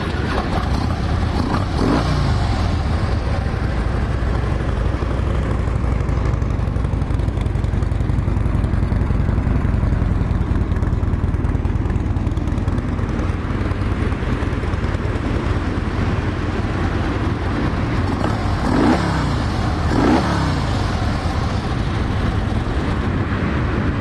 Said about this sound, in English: Got the factory exhaust on it, so it's not real loud. It does have a nice rumble to it.